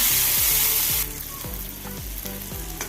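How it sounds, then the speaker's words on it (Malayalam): Chopped tomatoes sizzle loudly in hot oil in a pan of egg curry masala while a spoon scrapes and stirs in regular strokes, the frying hiss easing slightly after the first second. "ഇനി അടുത്തത് തക്കാളി അരിഞ്ഞ് ചേർത്ത് കൊടുക്കാം ഇളക്കി കൊടുക്കാം"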